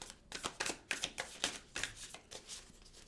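A deck of tarot cards is shuffled by hand, giving a quick run of crisp riffling and slapping bursts in a steady rhythm, close and fairly quiet with no voices.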